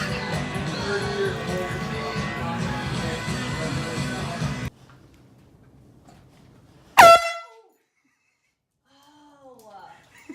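A loud air horn blast bursts out suddenly after a stretch of chatter and laughter, a single harsh honk that cuts off quickly, followed by quiet and faint voices.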